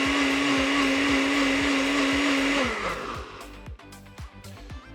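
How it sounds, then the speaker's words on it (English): A small kitchen blender whirs at high speed mixing an anti-inflammatory alkaline drink, then cuts off and winds down, leaving quiet clicks and knocks as it stops. "So I'm gonna put this all together in my little blender"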